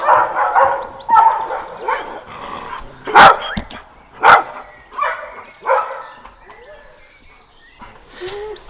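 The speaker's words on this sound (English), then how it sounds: "That's the dogs." Several dogs bark in a series of sharp, loud yaps and woofs close by, with whimpering whines between bursts and a brief quieter stretch toward the end.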